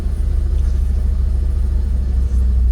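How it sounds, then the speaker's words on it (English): A Jaguar XKR engine idles with erratic, fluctuating revs, a steady close low rumble with slight surging and a brief dip near the end, loud and alone. "I know it's going to be tricky with the engine revs being so erratic."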